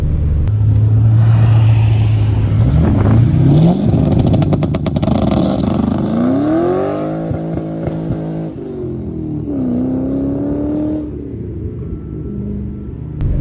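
Ford Mustang launching with its tires spinning, a loud, close engine roar climbing through the gears with a deep rumble underneath, then easing off as it settles.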